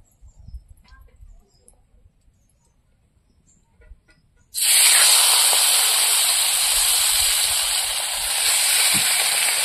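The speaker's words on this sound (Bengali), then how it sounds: "ভাত ভাজার জন্য কড়াইতে এবার তেল দিয়ে দেবো" Oil heating and sizzling in a wok for frying rice, a loud steady hiss that bursts in suddenly after a quiet stretch and holds close and strong to the end.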